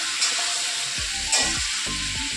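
Oil and spices sizzle loudly in a wok, with a hot crackling hiss spread across the whole clip and a few sharper spits breaking through.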